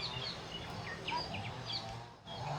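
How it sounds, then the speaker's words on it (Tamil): Birds chirp in a calm morning setting among trees: short, light high-pitched calls scattered through the clip, fairly faint over a steady outdoor background hum. "அழகா அந்த பறவை சத்தம்"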